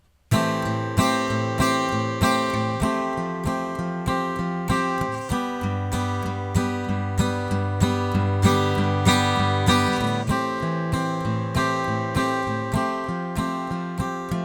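A full band plays a steady, driving chorus with strummed guitar chords, bass and drums, loud and continuous throughout with no singing.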